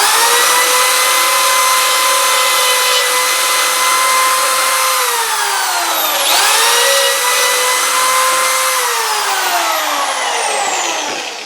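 A drill bores holes in metal for an electrical box, whining loudly and close with a steady pitch that dips under load and then recovers, running continuously with no voices.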